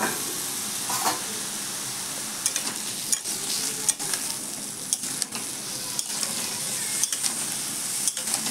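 Curry with bitter gourd and eggplant fries in oil in a kadai, tempered with dried chili and nigella seeds: a steady, loud sizzle with occasional sharp clinks and scrapes of stirring.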